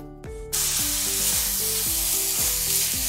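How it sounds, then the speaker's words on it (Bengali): Ginger garlic paste frying in mustard oil with black cumin seeds, a loud steady hissing sizzle that bursts in after a short quiet start and carries on close and continuous, no voices. "আদা রসুনটা ভালো করে ভেজে নিচ্ছি।"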